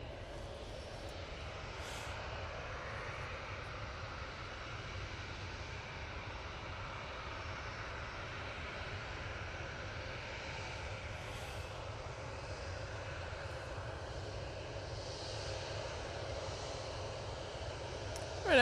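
A Ryanair airliner at Manchester Airport produces a steady distant engine roar that stays level and faint throughout, without talk.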